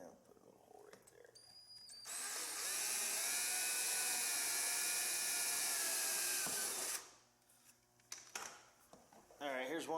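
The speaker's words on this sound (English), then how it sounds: "I'm going to drill the hole for this wire." A power drill bores a hole for a wire on an ATV during a halo light installation, a loud, steady, close whine lasting about five seconds, framed by quieter handling sounds before and after.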